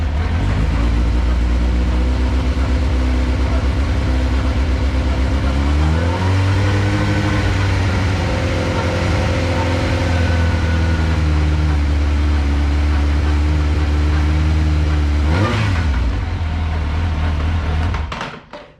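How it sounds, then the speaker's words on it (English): A Suzuki GSXR 1000 motorcycle engine revs loud and close for about eighteen seconds, climbing in pitch around the sixth second, holding a steady high whine, dipping briefly near fifteen seconds, then cutting off at the end; nobody speaks. "And then just rev it, just a little bit."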